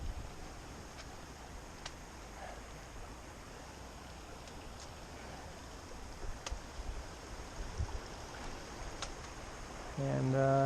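A mountain creek along the Robinson Lake Trail flows in a continuous broad rush with a few faint clicks, and a louder bump near the end.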